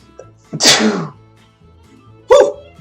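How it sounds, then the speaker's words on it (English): A single loud, sharp sneeze close by, followed after a pause by a short vocal burst. "I have to sneeze."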